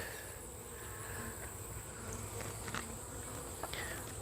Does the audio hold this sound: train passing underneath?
no